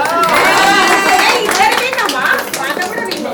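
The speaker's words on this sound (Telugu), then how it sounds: "అందరు క్లాప్స్ కొట్టండి" A family clapping together at a 70th birthday celebration, a brief dense patter of applause mixed with overlapping voices and cheerful chatter close by.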